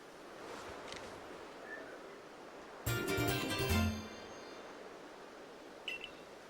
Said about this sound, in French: There's a glowing, beeping object from over there.